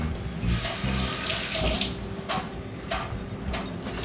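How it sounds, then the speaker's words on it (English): Fresh mint rinsed under a running kitchen tap, a steady close gush of water with brief splashy surges as the leaves are turned in the stream. "I'm gonna do a quick rinse on the mint."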